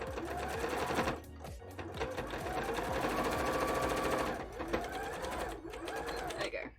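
Sewing machine stitching a Haunter-themed bra, a loud, steady mechanical whir with rapid needle rhythm running nearly the whole time, briefly pausing and restarting, with no talk over it.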